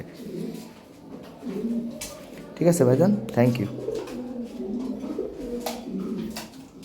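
Fancy pigeons kept in breeding pairs, cooing in repeated throaty bursts close by, mixed with men chatting and background rustle.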